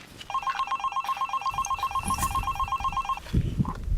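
A telephone rings with rapid repeated electronic trills for about three seconds, loud and close, then stops as rustling and movement follow.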